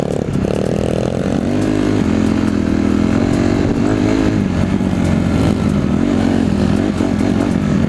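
A motorcycle engine runs loud and close during a ride, its steady rumbling drone shifting pitch slightly as the throttle changes, with no talk over it.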